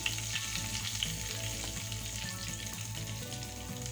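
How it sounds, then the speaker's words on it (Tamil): Mustard seeds spluttering in hot oil in a pan for sambar, a steady close sizzle with faint crackles and a low rhythmic hum beneath. "கடுகு கொஞ்சம் பொரியட்டும்."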